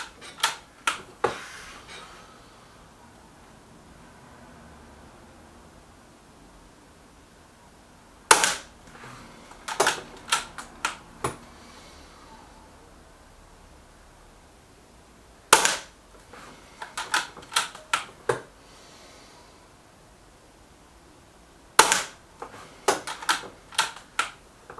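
A Weihrauch HW 110 air rifle fires in several separate strings of sharp, close cracks, each followed by quick mechanical clicks from cycling and loading, with quiet stretches between the volleys.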